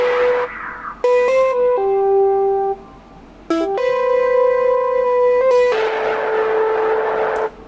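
Omnisphere Rude Sign Synth preset playing a melody with chorus added: sustained, bright, wavering synth notes in short stepped phrases with brief gaps, loud and alone with no voices.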